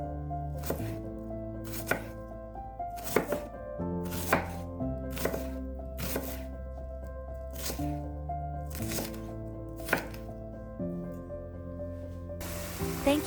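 A knife chops onions on a cutting board in sharp, evenly spaced thuds, close and clear over soft background music.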